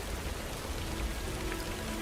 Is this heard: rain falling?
yes